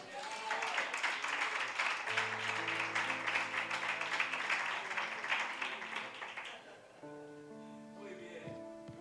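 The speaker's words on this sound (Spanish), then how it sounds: "damos un aplauso para el Señor" A church congregation claps steadily for several seconds while sustained keyboard chords swell underneath, the clapping fading out and leaving the music alone.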